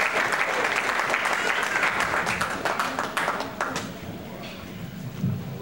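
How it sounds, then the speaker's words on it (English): A church congregation breaks into hand clapping, a dense burst of claps from many people that fades toward the end, with voices faintly underneath. "And give God a hand clap."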